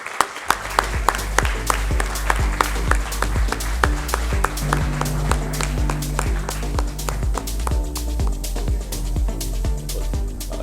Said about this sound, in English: I think they deserve a loud round of applause,